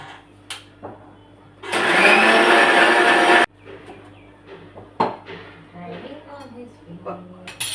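A kitchen mixer grinder whirs loudly for about a second and a half while grinding food finely, then stops abruptly, with people talking and dishes clinking before and after.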